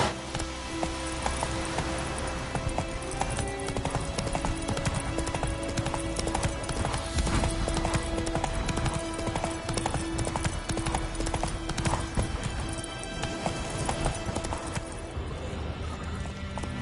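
Horse hooves gallop in steady, loud clip-clop rhythm throughout while riding in The Witcher 3 video game, with brief voice snippets over the hoofbeats.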